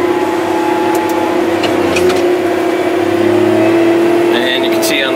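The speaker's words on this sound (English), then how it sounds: "I drop the ripper in the ground" Challenger MT765B tractor engine drones loudly and steadily under load as the ripper is dropped into the ground, with a faint voice over the continuous mechanical rumble.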